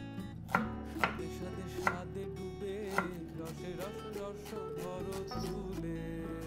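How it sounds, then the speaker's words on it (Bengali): Onions are finely chopped with a knife on a cutting board, a series of close, crisp taps at an uneven rhythm over soft background music, with no talking. "পেঁয়াজ মিহি করে কুচিয়ে নেবে"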